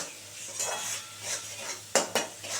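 Spice masala with ginger paste and green chilli sautéing in oil for a papaya and prawn dish, a soft sizzle under slow stirring strokes with two sharp utensil knocks against the pan.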